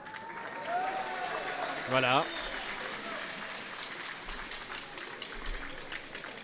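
Spectators applaud in an indoor handball hall at a women's N1F match, a moderate crowd clatter rising briefly and fading, heard beneath a commentator who keeps talking over it.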